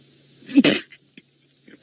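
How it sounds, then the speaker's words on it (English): A single sharp human sneeze close to the microphone on a safari game drive, with a brief breathy wind-up and then near quiet with faint rustling. "That sneeze took a while to fully load there"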